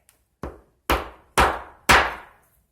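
Four sharp hammer taps on a metal mirror mounting bracket, a faint tick then three louder strikes spaced about half a second apart, each with a quick ringing decay, close and alone without talk.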